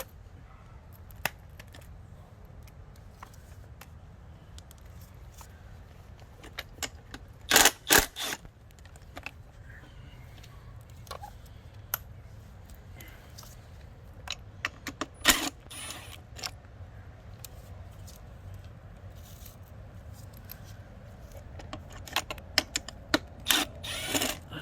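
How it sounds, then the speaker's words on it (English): Ratchet and wrench work loosening four bolts on the rear fender of a 2021 Kawasaki ZX10 motorcycle, with close metallic clicks, scattered clanks and bursts of ratcheting over a steady low background hum, no voices. "I'm going to take off these 4 bolts."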